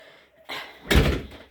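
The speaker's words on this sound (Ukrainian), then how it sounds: "Зараз я закрию двері, покажу вам." A house door swings shut with a soft first knock and then a solid, close thud as it closes, alone without any talk.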